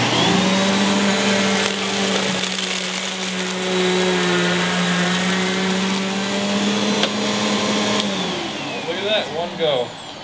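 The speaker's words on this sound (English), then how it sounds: "So now that we've done the work to repair the vacuum, let's test it out." A repaired ICC vacuum cleaner runs with a loud steady whine and hum for about eight seconds, then winds down as its pitch drops, with people talking around it.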